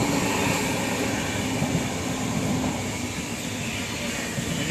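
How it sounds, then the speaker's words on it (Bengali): A train running from Bihar into Uttar Pradesh at night gives a continuous, steady rumble of wheels and carriages, heard from inside with no voices. "এবার বিহার থেকে উত্তরপ্রদেশ ঢুকছে ট্রেন"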